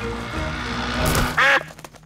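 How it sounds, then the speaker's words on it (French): A cartoon duck gives a short burst of loud, nasal quacks near the end, following a stretch of background music and noise. "Pardon, petit canard."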